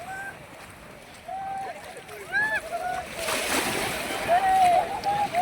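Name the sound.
sea water splashing with people bathing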